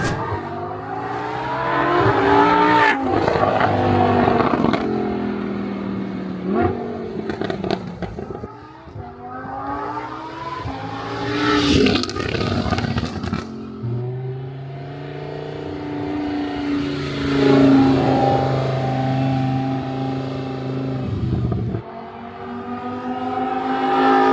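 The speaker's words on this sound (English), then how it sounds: "That is a V10 Lamborghini Hurracan right there." A V10 Lamborghini Huracán engine screams past, rising and falling through several gear changes, loud and close with roaring pitch sweeps.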